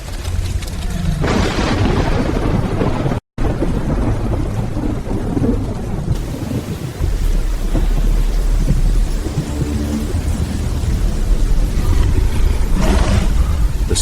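Thunderstorm in a dark jungle, dense continuous rain hiss with heavy low rumbling thunder rolling throughout, loud and close, broken by a brief dropout near the start and a sharper crash toward the end.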